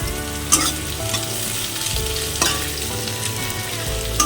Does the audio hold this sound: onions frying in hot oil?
yes